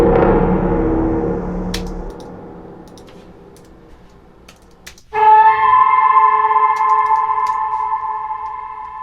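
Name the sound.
Grizzly sample pack signature sounds with heavy reverb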